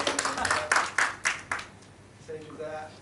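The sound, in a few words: applause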